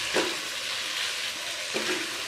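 Boiled pasta stirred into chicken in a pan, giving two short scraping, sizzling stirs over a steady hiss of frying, close and moderately loud with no talk.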